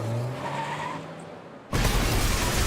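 A car in the Arknights game skids and then rams into another car: a hissing skid fades out, followed by a sudden loud broadband crash that holds steady to the end.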